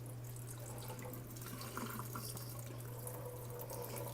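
A kitchen tap runs cold water over cashews in a sink, a steady close hiss and splash with a constant low hum underneath, no voices.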